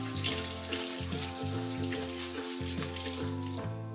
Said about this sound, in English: The first thing you need to do with quinoa is you need to wash it.